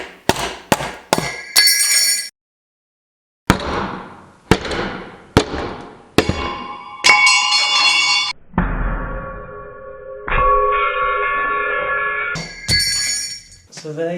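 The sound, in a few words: hammer striking seized bicycle bottom bracket bearing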